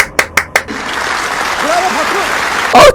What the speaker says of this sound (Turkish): bir alkış alalım abi